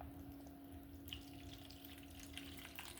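Water poured into a homemade detox drink, a quiet splashing trickle that starts abruptly and continues with small irregular splashes over a faint steady hum.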